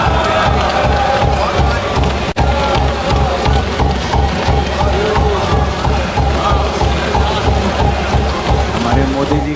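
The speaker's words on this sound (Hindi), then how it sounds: "हमारे मोदी जी की तालियां बजा रहे हैं वहां पे" A parliament chamber erupts in dense, sustained applause and cheering after a budget announcement of no income tax up to 12 lakh rupees, a loud continuous roar of clapping with voices mixed through it.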